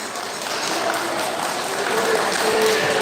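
Crowd applause for the chairman of PPRJB Bandung Raya at a Batak clan New Year celebration, a dense, even wash of clapping that stays loud and sustained for the whole stretch, with a faint tone lingering underneath.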